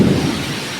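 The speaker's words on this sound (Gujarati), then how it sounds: "પવન સાથે વરસાદ" Thunderstorm with wind and rain after a hot morning's sudden weather change, a loud low rumble of thunder over a steady rush of rain and gusting wind, fading slightly toward the end, with no talking.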